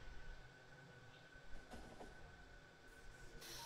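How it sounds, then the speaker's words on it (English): A stone-carrying freight train rolls along rails in Factorio, a steady, low rumbling hum with a faint mechanical hiss, moderately quiet and continuous with no talking. "Hello, stone train."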